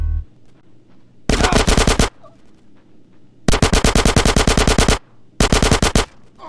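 Automatic weapons firing in GTA San Andreas: three loud, rapid bursts of machine-gun fire, the middle one longest, with short quiet gaps between them and no voices.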